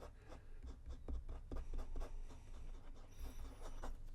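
Lamy 2000 fountain pen with a medium nib writing in blue ink, giving a soft, close scratchy glide of short strokes in an irregular rhythm, quiet and alone.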